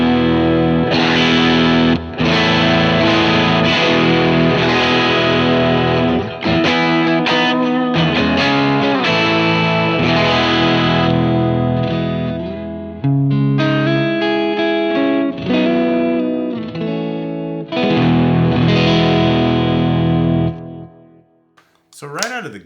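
An electric guitar plays through the Sunn Model T amp model on a Line 6 Helix running firmware 3.50, giving a loud, heavily distorted tone in sustained chords and riffs that fade out at the end.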